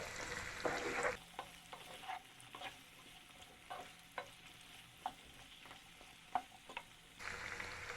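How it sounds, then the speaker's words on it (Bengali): Green capsicum pieces lightly fried and stirred in a pan on a medium flame, with regular soft spoon scrapes over a quiet sizzle and louder bursts of frying at the start and end; no voices. "এবার অ্যাড করে দিচ্ছি টুকরো করে কেটে রাখা একটি সবুজ ক্যাপসিকামের অর্ধেক অংশ। হালকা ফ্রাই করে নিচ্ছি।"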